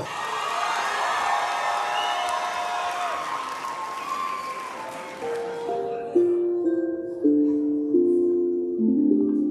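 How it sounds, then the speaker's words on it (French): A crowd at the Mang'Azur 2025 anime convention cosplay contest breaks into loud, sustained applause with some cheers, then fades as soft stepped music tones take over. "On l'accueille avec un tonnerre d'applaudissements."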